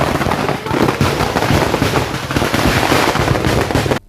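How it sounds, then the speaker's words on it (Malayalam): Fireworks and oleander-leaf firecrackers burst continuously at a night temple festival in Kerala, a loud, dense, crackling barrage of overlapping bangs that holds steady for about four seconds before cutting off. "വെടിക്കെട്ട് അവസാന ലാപ്പിലെത്തിയപ്പോൾ ഓലപ്പടക്കത്തിൽ നിന്ന് തീപ്പൊരി ചിതറുകയായിരുന്നു."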